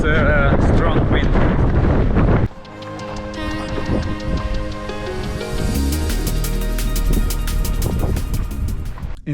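Strong mountain wind on Triglav in fog, loud buffeting gusts roaring across the microphone throughout, with a hiker speaking and footsteps.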